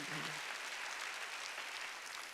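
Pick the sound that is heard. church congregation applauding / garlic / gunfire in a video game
church congregation applauding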